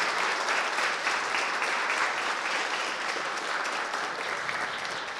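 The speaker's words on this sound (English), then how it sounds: "I think we should have a huge round of applause for today's guests for taking time out on a Saturday to be here." Audience applause for the guests at an event on video game environment storytelling, a dense, steady wash of many hands clapping, close and sustained throughout with no speech over it.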